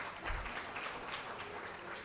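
An audience at an open-mic awards show applauds in a faint, continuous patter of clapping.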